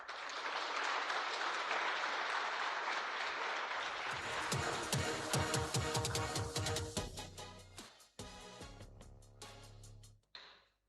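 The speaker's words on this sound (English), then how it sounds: "Please give a thunderous round of applause" Applause from the audience at an aviation company's headquarters launch event, a broad wash of clapping that gives way to music with sharp percussive hits and then breaks off abruptly.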